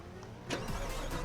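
Car engine in a Roblox driving game starting up with a sudden burst and settling into a steady mid-pitched run, fairly close and alone.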